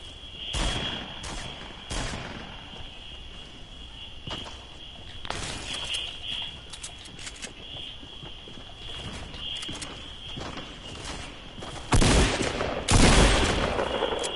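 Shotgun blasts in a video game ring out as a handful of sharp, separate bangs spread over the span, with two heavier shots near the end amid faint background noise and footsteps.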